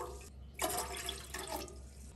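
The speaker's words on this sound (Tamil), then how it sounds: "அதில் 1/2 கப் தண்ணி விட்டுக்கலாம்." Half a cup of water is poured into a bowl for a spiced orange saffron drink, a brief soft trickle and splash that starts after a pause and fades quickly, quiet and close.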